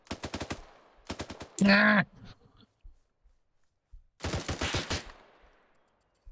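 Machine gun in Arma 3 rattles out several short bursts of rapid shots, loud and close, with pauses between them. A voice shouts briefly in the middle.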